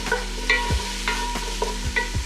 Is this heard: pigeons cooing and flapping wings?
no